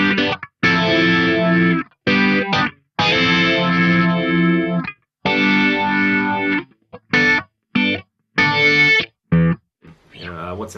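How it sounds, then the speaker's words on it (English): Funk electric guitar through chorus and phaser, giving an electric-piano-like tone, plays short choppy chords and riffs in bursts with brief silences between phrases, close and clear. "So I would use like chorus and a phaser, basically to get sort of like an electric piano kind of thing happening."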